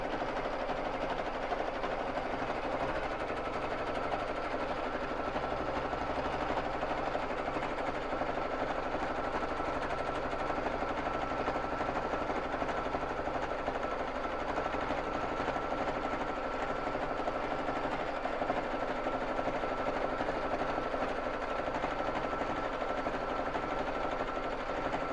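A BabyLock Jazz sewing machine mounted on a quilting frame free-motion quilts with a 110/18 needle, giving a steady, unbroken motor hum and needle chatter that runs evenly throughout with no pauses.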